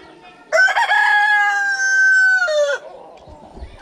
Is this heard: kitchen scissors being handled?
no